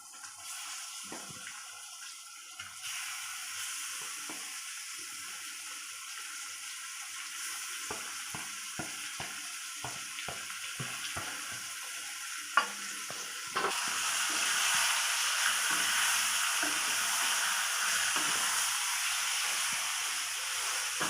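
Marinated chicken frying in a pan for Telangana-style chicken fry, a quiet steady hiss that grows louder partway through, with scattered spatula scrapes and stirs near the start and no talking.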